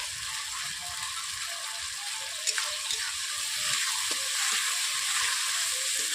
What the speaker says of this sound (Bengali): এইভাবে মশলাটাকে আমি সবগুলো উপকরণ দিয়ে আমি কষিয়ে নিচ্ছি